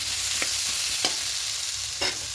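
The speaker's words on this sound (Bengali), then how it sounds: "ভালো করে কষিয়ে দিচ্ছি।" Grated and chopped coconut sautéing with spices in a pan for vegetarian khichuri, a steady hiss of frying broken by three distinct spoon scrapes against the pan, close and moderately loud, with no talking.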